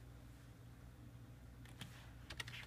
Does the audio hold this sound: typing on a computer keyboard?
yes